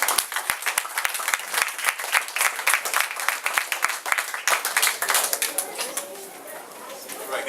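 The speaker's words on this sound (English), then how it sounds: "would you give a round of applause?" An audience applauds a speaker being introduced, with dense, close clapping that gradually thins and softens toward the end.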